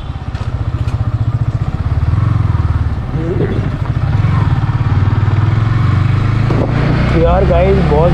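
A motorcycle engine runs close by, a low steady rumble that rises as the bike pulls away and keeps droning under someone talking.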